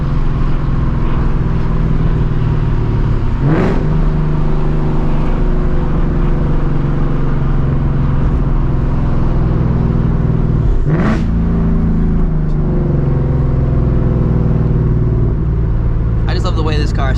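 A loud straight-piped S650 Mustang GT engine rumbles steadily up close, its deep exhaust note swelling in a couple of revs, with speech at times over the droning motor.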